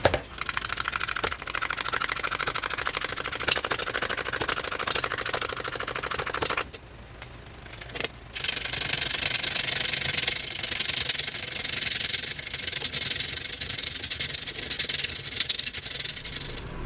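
A wood lathe turns a cedar log into a bowl, giving a steady broadband scraping and rubbing roar with a short quieter break partway through, then a continuous hiss of tool against the spinning wood.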